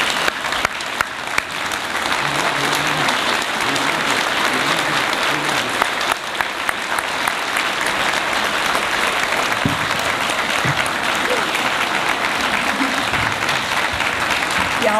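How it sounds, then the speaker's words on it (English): A breakfast audience gives a resounding round of applause, loud and dense, holding steady for the whole stretch, with faint voices and cheers mixed into the crowd. "Let's give her a resounding round of applause"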